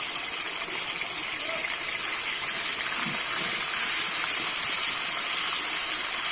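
Eggs with turmeric fry in a pan for egg curry, a steady, loud broadband sizzle and hiss that holds evenly throughout with no talking.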